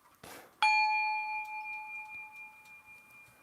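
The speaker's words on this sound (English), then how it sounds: "At the sound of the chime" A single meditation chime rings out clearly, a bright struck tone with a sharp onset that sustains and slowly fades over a few seconds in a quiet room, preceded by a soft brush of noise.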